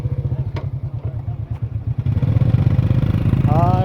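A motorcycle being ridden in Laos putters steadily close by, its low engine note pulsing evenly and growing a little fuller toward the end, where a voice briefly cuts in.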